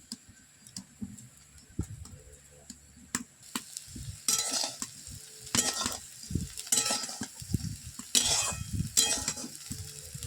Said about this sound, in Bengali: ভালো করে একটু নেড়ে নেওয়া হচ্ছে